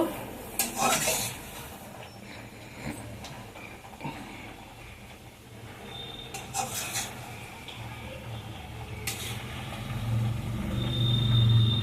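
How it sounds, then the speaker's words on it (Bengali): Eggplant curry being stirred in a pan, with soft scraping of a spoon and metal clinks against the pot over a faint low sizzle, fairly quiet and close. "আমি এবার একটু নাড়াচাড়া দিয়ে দেখব"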